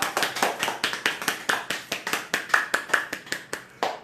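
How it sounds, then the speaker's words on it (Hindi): A small group claps hands loudly and in unison during a fitness and laughter session, a steady rhythm of sharp claps at roughly four per second with nothing else heard. "जोर से ताली बजाइए।"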